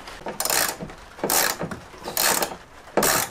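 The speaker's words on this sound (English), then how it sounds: "it reveals another Torx bolt, which you then have to remove" A ratchet removes a Torx bolt from the headliner of a VW Crafter or Mercedes Sprinter van, giving four separate bursts of close, fast clicking with short pauses between them.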